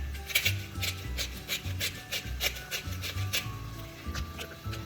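A pepper grinder cracks medium black pepper in a steady run of gritty, rasping crunches, close and fairly quiet, with a rhythmic twisting pattern and no talking.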